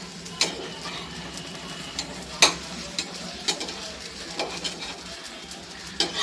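Soft sizzling of a moong dal dosa on a hot pan just after flipping, a faint steady hiss broken by a few sharp clicks and taps of a utensil.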